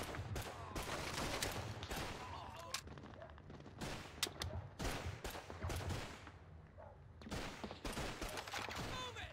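Machine gun fire in Call of Duty 2, with dense rapid bursts of shots repeating across the whole stretch, loud and close, punctuated by brief pauses between volleys.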